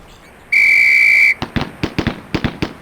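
In the video game Police Quest: SWAT, a shrill, steady whistle sounds for under a second to signal a firing drill. A quick series of sharp gunshots follows at once, in an uneven rhythm.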